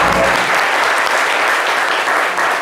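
A studio audience at a live French show bursts into dense, continuous applause to welcome a guest. The clapping is loud and sustained, with no voices.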